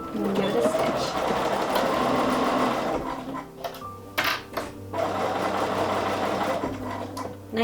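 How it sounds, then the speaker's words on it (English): Sewing machine stitching quilt blocks together along a quarter-inch seam, its loud, close, steady mechanical hum running continuously, then stopping and starting in short bursts before it runs steadily again. "So we're going to put it in our machine and get it right on that 1/4 inch seam line. And give it a stitch."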